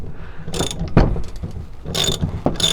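A ratchet with a 19 mm socket turns the adjuster on a Bilstein 6112 coilover, giving close, bright clicking bursts in three short runs with pauses between them, with no voices.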